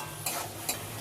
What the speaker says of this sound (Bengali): যতক্ষণ না সব সবজি সিদ্ধ হচ্ছে এভাবেই মিশ্রণটিকে নাড়াচাড়া করে নিতে হবে।